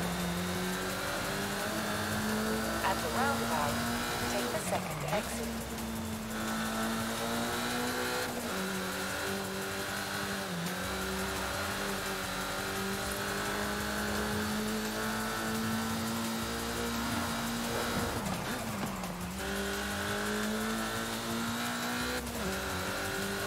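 A car engine in Forza Horizon 5 roars steadily at high revs throughout, pitch dipping briefly at gear shifts and climbing again, loud and close with no talk.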